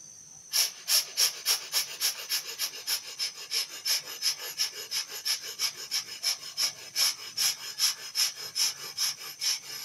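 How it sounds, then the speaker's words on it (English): Deep pranayama breathing through the nose, a steady series of about twenty sharp, rhythmic breaths, close and clear with no talking. "breathing a deep breath in"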